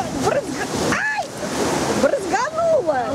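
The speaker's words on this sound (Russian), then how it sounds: "сплавляемся на реке" Water splashing and rushing through river rapids on a raft ride at PortAventura park in Salou, Spain, with excited voices shouting and talking loudly over the steady rush of water.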